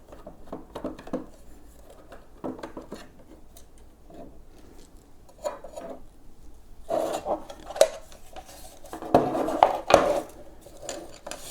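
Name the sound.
Phillips screwdriver removing screws from charger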